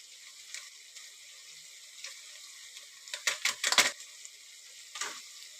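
A rice-lentil bisi bele bath mixture with sambar powder and MTR bisi bele bath powder fries and is stirred in a pan, giving quiet sizzling broken by a cluster of louder scraping bursts and a later stir.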